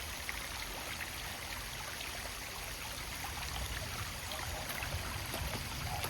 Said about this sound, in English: We've got this beautiful stream behind us